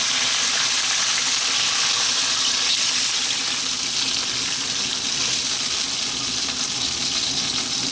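Cold water hits a hot pan of browned beef, producing a loud, continuous close-up sizzle and rushing hiss that holds steady the whole time, with no voices.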